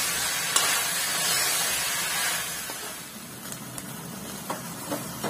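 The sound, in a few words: tandoori chicken pieces frying in a kadai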